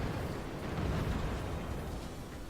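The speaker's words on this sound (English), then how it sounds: "I'm shooting my cannon again." Cannon fire in the game Forts makes a dense, sustained booming rumble that fills the clip with heavy low-end roar, like a prolonged blast with no voices over it.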